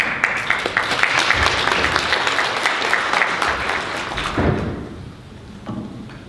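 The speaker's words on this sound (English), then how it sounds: "Please, a big round of applause." Audience applause at the opening of the Seventh Ukrainian Investment Forum, dense steady clapping from a large hall crowd that carries through, then thins and fades out toward the end.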